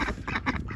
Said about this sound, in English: It's kind of hard to figure out where the quacking is coming from.